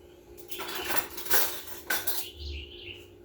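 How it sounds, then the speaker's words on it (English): Canned food is tipped out of a whole can into a dish while cooking, with scraping, clinking metal-on-dish sounds and a soft plop of the contents, close and fairly quiet, with no talking. "dump the whole can in"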